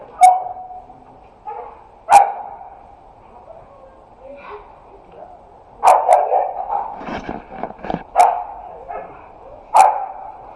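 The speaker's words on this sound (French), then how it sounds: "il y a un chien qui est en train de se friter avec le chat" A dog barks sharply in repeated single barks, with a flurry of scuffling and yelping midway as it tangles with a cat, heard at moderate distance outdoors near a beehive apiary under a steady hum, with someone speaking.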